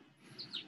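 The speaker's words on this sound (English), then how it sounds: "The birds are chirping." Small birds give two quick, high chirps a short way off, faint against quiet room tone.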